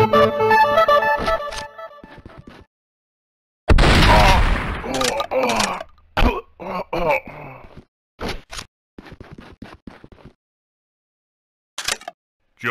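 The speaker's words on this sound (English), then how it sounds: "That shotgun's not great at long ranges, but it obliterates anything that's close by." Shotgun blasts in the video game Blood and Bacon: a loud burst of firing near the start, then sharp separate shots with gaps, over game music and scattered effects.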